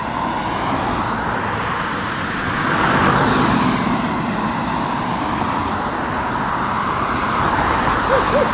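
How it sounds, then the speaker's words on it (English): Steady road traffic on London Turnpike in Norwich, Connecticut, a continuous broadband roar of passing cars and heavier vehicles that swells slightly midway, heard outdoors with no talking. "I'm actually just waiting for some of the traffic to lighten up so you can hear me"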